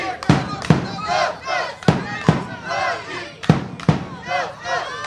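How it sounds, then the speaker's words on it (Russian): Football fans roar and shout from the stands of the Alania Academy in Vladikavkaz at a children's club tournament, the Alania Cup. The crowd noise is loud and continuous, with sharp bursts of cheering rising and falling in waves. "Трибуны Академии Алании буквально дрожат от радостных криков болельщиков."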